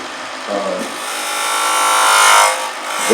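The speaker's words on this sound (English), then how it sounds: "I'm just using a thin parting tool here to make a straight tenon" A thin parting tool cuts a straight tenon on a spinning wood lathe, producing a loud, continuous, high-pitched whine close by that swells steadily as the cut deepens and then eases off.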